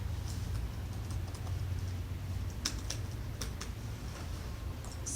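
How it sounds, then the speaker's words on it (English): Rapid clicks of someone typing on a computer keyboard come in short, irregular bursts, close and fairly quiet over a low background hum. "We're also gonna type in the word breast cancer."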